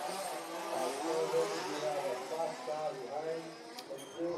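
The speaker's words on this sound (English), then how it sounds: "Some shouting over some of the engine noise" Off-road RC race cars run at a European Championship track, their engines a distant buzzing whine under nearby talk and crowd murmur.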